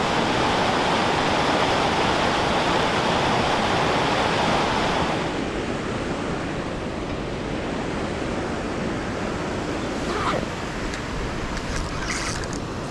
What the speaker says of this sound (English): So these waterfalls are so gorgeous.